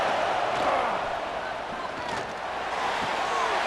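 A loud football stadium crowd at a Georgia game roars and cheers without pause, a dense, steady wall of noise filling the whole stretch.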